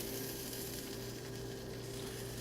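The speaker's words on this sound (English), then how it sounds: "You hear the sizzling?" Continuous sizzling from a grilled cheese sandwich in a hot frying pan, an even crackling hiss with a low hum underneath, no voices.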